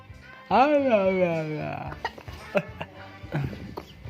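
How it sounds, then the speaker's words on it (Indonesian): A single harsh, voiced cough-like burst rings out up close, followed by quieter scattered clicks and short vocal sounds. "Oh, batuk."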